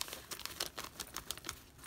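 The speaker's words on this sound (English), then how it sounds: "I just love the sound of this bag" Crisp crinkling of a plastic bag, handled in quick irregular bursts, close and fairly quiet with no voices.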